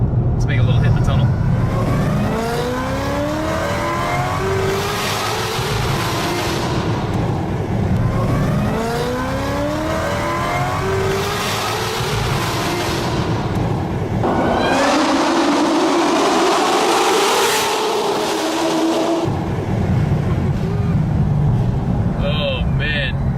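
Corvette ZR1 with an 800 hp engine revving hard inside a tunnel, rising and falling through repeated loud pulls with booming echo, while voices talk over the engine.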